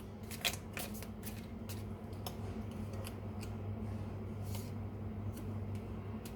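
Tarot cards are drawn from a deck during a reading, giving faint, quick crisp snaps and slides against a low steady background hum, with no voices.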